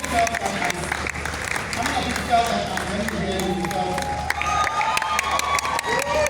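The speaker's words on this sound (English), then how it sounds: "Round of applause." An audience at a women-in-leadership talk applauds with some cheering and whoops, a steady crowd wash while a speaker keeps talking over it.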